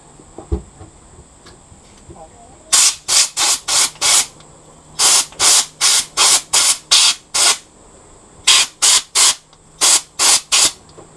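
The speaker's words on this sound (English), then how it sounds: "get the air compressor and blow the uh, residual spray and some of the remnants out" Repeated short, loud bursts of compressed air blasting spray residue off Yamaha 50HP four-stroke outboard engine parts in quick groups, with brief pauses between clusters, close and harsh against a quiet background.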